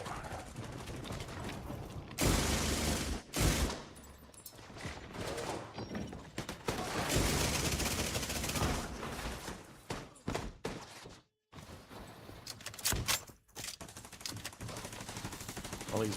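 Loud, dense automatic gunfire from a firefight in the video game The Division 2, rattling in long bursts and clustered shots with only brief lulls throughout.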